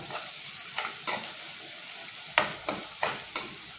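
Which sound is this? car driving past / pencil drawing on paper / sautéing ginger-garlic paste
sautéing ginger-garlic paste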